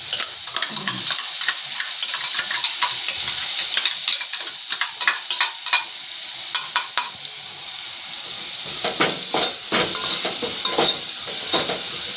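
Crab rasam ingredients sautéing in a hot pan, with a steady sizzle and frequent scraping, clinking stirs of a spoon against the pan throughout, close and fairly loud with no talking.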